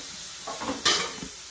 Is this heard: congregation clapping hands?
no